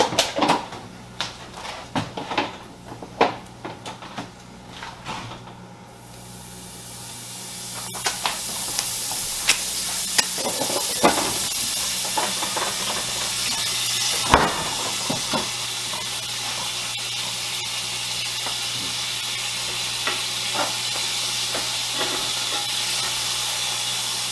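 Butter dropped into a hot pan for a Christmas breakfast of eggs and bacon. A few clanks come first, then a loud, steady hiss and sizzle rises and holds to the end.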